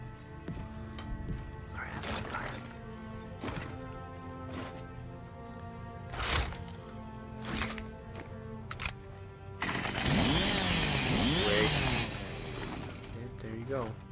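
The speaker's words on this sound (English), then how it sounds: "Chainsaw." A chainsaw revs in the Gears of War 4 co-op campaign, a dense snarling burst of about two seconds rising out of game clatter and voices partway through.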